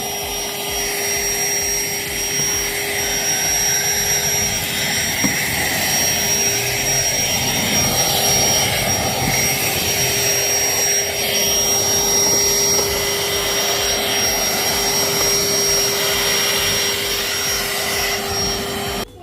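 A Black & Decker POWERSERIES+ 16V cordless stick vacuum running steadily, a loud continuous motor whine and airflow roar with a sharp high tone, unbroken for nearly twenty seconds and without any talking.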